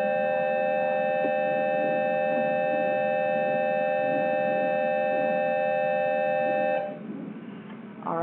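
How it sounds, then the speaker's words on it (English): A school bell rings in a classroom with a sustained, steady electric tone that holds for several seconds before cutting off, followed by a short faint tail. "Alright, that was the bell."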